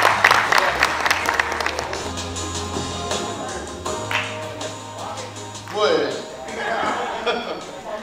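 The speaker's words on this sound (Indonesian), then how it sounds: "Dan diberikan tepuk tangan." Applause from an audience at an Indonesian official ministry event, clapping strongest at the start then thinning out, with voices and a chuckle or two heard alongside.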